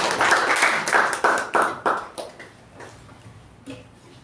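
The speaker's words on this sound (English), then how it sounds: "Please welcome him with a big round of applause." Audience applauding at a Toastmasters club meeting as a speaker is welcomed: a burst of sharp claps, strongest at first, that thins out over a few seconds into scattered fading hand claps.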